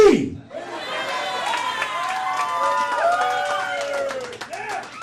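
A live comedy-show audience claps and cheers loudly and continuously, a dense roar of applause with whoops and shouts rising over it for several seconds.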